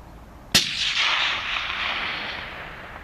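A single sharp rifle shot during a deer hunt, loud and close, its crack rolling off into a long fading echo across open terrain.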